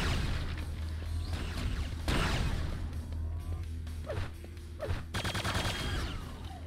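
Weapon fire and explosions in the video game Quake II: Ground Zero, a dense, continuous run of loud booms, bursts and whooshes with a low, droning backdrop and no talk.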